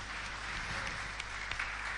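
Audience applause in a Turkish television studio, a steady dense patter of clapping at moderate distance that carries on through the short stretch without any voices.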